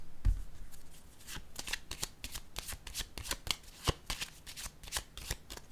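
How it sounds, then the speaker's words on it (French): Cards handled during a tarot-style card reading give a run of crisp, papery riffling and slapping taps, close and fairly quiet, clustered in quick irregular bursts with no talk over them. "Je vais déposer une carte"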